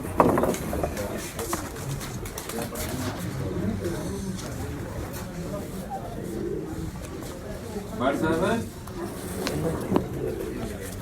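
Pigeons coo near a Lahore rooftop loft during a pigeon-flying contest, soft calls mixed with wing flutters and general outdoor bustle, with people talking throughout.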